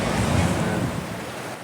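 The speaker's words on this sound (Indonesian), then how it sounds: "aliran Sungai Regoyo ini masih cukup deras dan dalam" The Regoyo River rushes strong and deep in flood, a loud, continuous wash of turbulent water with a roar like wind, easing slightly toward the end.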